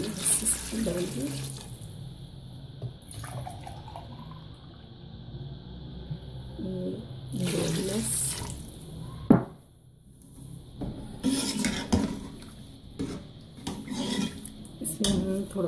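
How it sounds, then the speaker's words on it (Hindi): Water poured from a glass into a pot of beef nihari, with fried spice masala and meat, splashing in short bursts among kitchen clatter; a person speaks briefly. "अब हम इसमें अपने हिसाब से पानी डालेंगे।"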